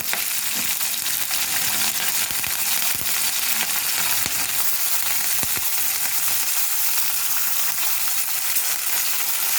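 Crushed ginger-garlic paste, slit green chillies and curry leaves frying in hot oil for a moong dal palak dal. A loud, dense sizzle and crackle runs throughout, dotted with small clinks and spatters, and no one speaks.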